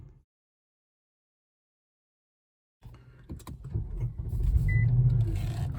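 An Infiniti Q70L V8 sedan pulls away in stop-and-go city traffic after a stretch of silence, its engine and road noise swelling into a steady, close rumble with a faint beep.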